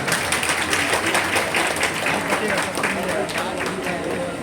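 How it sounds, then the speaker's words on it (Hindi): Audience at a live dance and singing program at Hazaribagh Road Railway Station clapping for student award winners, a dense, loud, continuous wash of applause that fills the whole stretch. "कृपया ताली बजाएं, जिनका मनोबल बढ़ाएं।"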